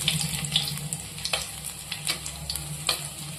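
Soft, steady sizzling of fenugreek and ginger frying in oil, with occasional light scrapes of a spoon stirring the pan; no voices.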